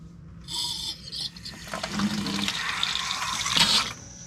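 Water and trapped air spurt from a spigot on a PEX basement water supply line into a bucket, a sputtering, hissing gush that surges and bubbles unevenly throughout, with no voices.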